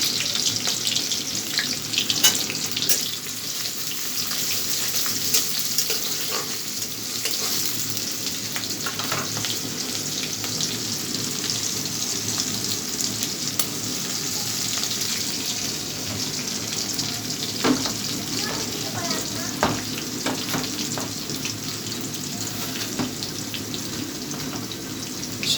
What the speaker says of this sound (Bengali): আর এই যে আমার কড়াইটা গরম হয়ে গেছে। অল্প মশলা রান্না করবো তো এই যে পেঁয়াজ কুচি দিয়ে দিব, 2টা পেঁয়াজ কুচি আর কয়টা কাঁচামরিচ।